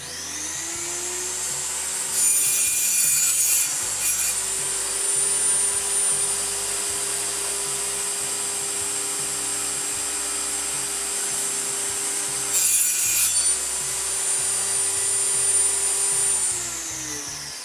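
A power saw cuts pieces out of plywood nearby, its motor holding a steady high whine, with two short bursts of louder cutting noise as the blade bites into the wood.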